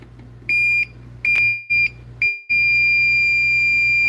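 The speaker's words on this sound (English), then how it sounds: "Got the positive beep there." A Klein or Ideal circuit breaker finder tool emits a sharp, high electronic beep, first in short broken chirps and then a long sustained tone, loud and close over a low electrical hum.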